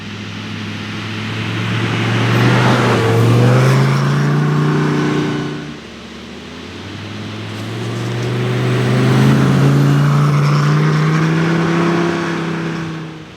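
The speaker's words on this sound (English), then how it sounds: "I just got the Pirelli winter tires installed on the car, and so far the thing just flies through the snow." Lamborghini on Pirelli winter tires driving through a snowstorm in Summit County, Utah: loud engine revs rising in two long accelerating surges with a dip between, heard up close with no talking.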